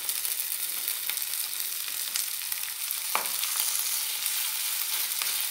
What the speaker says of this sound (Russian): Теперь обжариваем их со всех сторон.